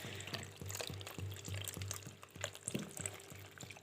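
Half a liter of water pours steadily into a blender jug, a soft gurgling splash heard close up over a faint rhythmic mechanical hum.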